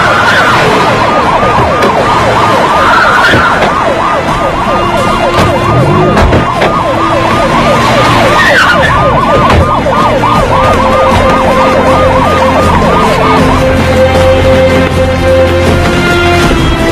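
Police car sirens wail in a dense, overlapping chorus throughout a scene from a Tagalog-dubbed drama, loud and continuous, with several sirens rising and falling together as the vehicles close in.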